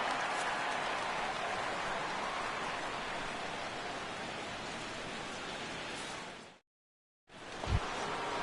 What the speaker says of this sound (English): Carlos Beltran steps in here to lead off the sixth as the rain continues to fall here.